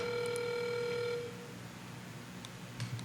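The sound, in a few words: telephone ringing on speakerphone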